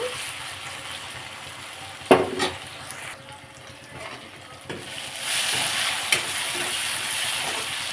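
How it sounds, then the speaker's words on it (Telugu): Tomatoes frying in a pan for a taro curry, a loud continuous sizzle with a sharp clatter of stirring near the start, briefly quieter before the frying swells again, no talk. "టమాటా వేసేద్దాం మొత్తం వేగుతుంది టమాటా కొంచెం మగ్గాలి"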